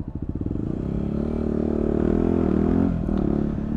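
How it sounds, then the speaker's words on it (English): A motorcycle engine pulses and rises as the rider upshifts without the clutch, with close, strong, throbbing revs climbing through the gears before easing off. "The light's green, let's do a little upshifting."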